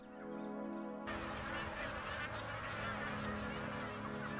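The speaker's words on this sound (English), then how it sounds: "the thousands of magpie geese that fly into Lakefield to breed" Many magpie geese honk together in a dense, continuous chorus, a flock calling at moderate distance in Lakefield, Australia.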